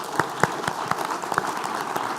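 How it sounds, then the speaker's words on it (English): An audience at the WCEF2022 circular-economy forum closing gives a short burst of sparse applause, with a handful of distinct sharp claps in an uneven rhythm over a soft wash of clapping. "Let's give them a big round of applause"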